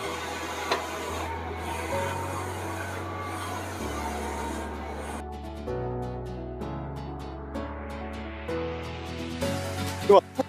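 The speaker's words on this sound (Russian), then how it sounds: "И принтер сейчас начнет промываться." An Epson SC-S80680 wide-format printer runs a cleaning cycle of shifting motor tones and whirring pitches that change every few seconds, ending in a couple of clicks.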